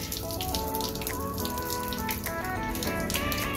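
Water splashes and trickles as potted plants are watered at home, a steady, fairly faint pouring patter with small droplet bursts throughout.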